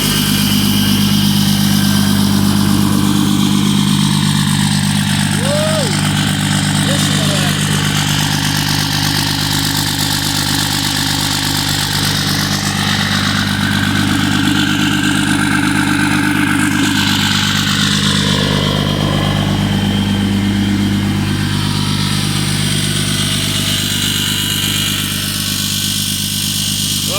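A 2006 Dodge Mega Cab with a manual transmission and a big-turbo Cummins diesel running, a loud, steady low rumble with a turbo whistle overhead, close and continuous for the whole stretch, no talk.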